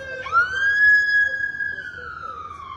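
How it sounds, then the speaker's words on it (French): A police siren wails nearby, rising sharply and then holding a long, slowly falling tone, loud over faint background noise. "Les sirènes."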